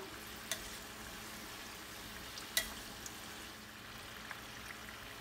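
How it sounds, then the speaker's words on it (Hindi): Punjabi aloo samosas deep-frying in oil, a soft continuous bubbling sizzle with a few faint clicks and taps, no voices. "इसमें समोसे फ्राई कर लिए हैं इस आइल में"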